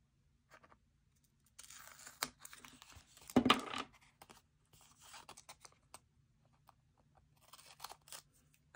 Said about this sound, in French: Je vais être obligée de prendre un gros ciseau.